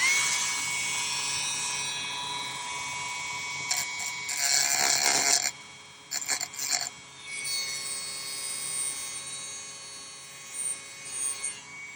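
A mid-sized rotary burr grinds along the edge of a small metal jewelry pendant, giving a steady, high-pitched whining rasp that rises and cuts out in short bursts near the end, close and continuous.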